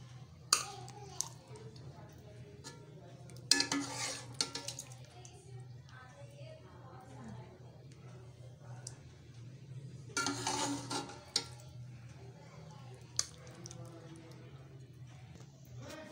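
Dum chicken handi being dished out from the pot, with faint scrapes and metallic clinks of a spoon against the cookware, a few louder bursts of clatter, over a low background hum with some faint voices.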